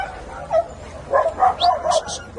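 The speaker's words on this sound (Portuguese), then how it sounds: "É muito cachorro." Dogs at an animal shelter bark and yip in short bursts, several barks spread across the clip with a whimpering tone, moderately close over a faint background hum.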